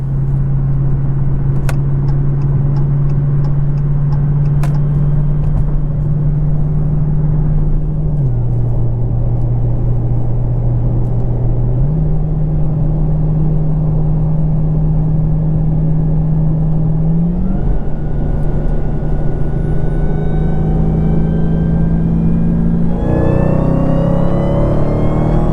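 A Dodge Hellcat Challenger running a Demon engine tune drones steadily through dyno pulls, its deep engine tone shifting in pitch in stages and climbing at the end, loud and continuous throughout.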